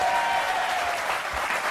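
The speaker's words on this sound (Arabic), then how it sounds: "الجمهور صفق عليك بزاف" A studio audience on a Moroccan television talk show applauds warmly, a steady, dense wash of clapping that fills the whole moment.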